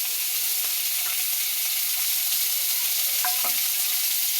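Cut mango pieces fry in hot oil seasoned with five-spice tempering and dried red chilies for chutney, giving a continuous close, bright sizzle with a few soft stirring clinks and no talking.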